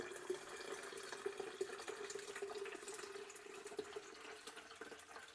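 Water running steadily from a tap into an OVENTE electric kettle as it fills, a continuous close splashing stream with a faint rising pitch.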